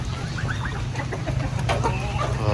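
Flock of hundreds of chickens clucking at feeding time in the rainy season, a busy overlapping chorus of near and distant clucks over a steady hiss of background noise.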